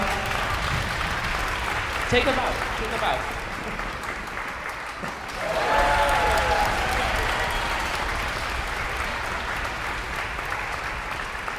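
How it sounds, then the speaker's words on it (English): Audience applause for Bella at a concert presenting excerpts of Beethoven's Symphony No. 6, sustained clapping from a crowd that swells midway, with a brief spoken line over it. "Give a big round of applause for Bella."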